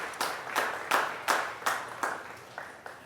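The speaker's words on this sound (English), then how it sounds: "So can we give a round of applause for all of our honorees today?" A small group at a school awards event for student honorees claps in a short, evenly spaced run of distinct claps, fairly quiet and close, fading toward the end.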